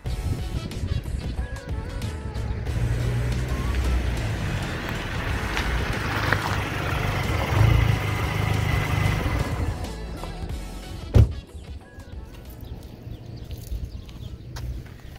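An Audi A4 B7 with a 2.0 turbo engine, heard as a continuous rushing road and engine noise with heavy wind buffeting, followed by a sharp thump and a quieter stretch.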